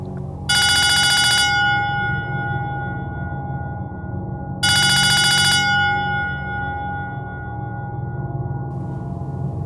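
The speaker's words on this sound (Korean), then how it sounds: "이 시간에 웬 전화?" A telephone bell rings in two separate bursts about four seconds apart, bright and clear over a steady low background hum, with no voices.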